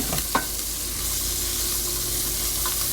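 Onions sizzle loudly in a hot pan, with a couple of quick stirring scrapes at the start as they are tossed to coat, then a steady frying hiss.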